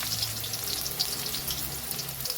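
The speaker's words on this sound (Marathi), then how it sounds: "पहिले चांगलं फ्राय होऊन देऊ" Onion and green chilies fry in a pan with a steady, fairly loud hiss and crackle that carries on without a break.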